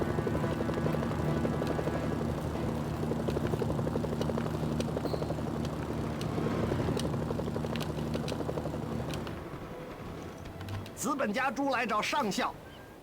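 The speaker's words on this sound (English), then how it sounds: "I could have done this mission with this helicopter" A helicopter in Mercenaries: Playground of Destruction gives a loud, steady rotor thrum for about nine seconds, then fades. A voice speaks near the end.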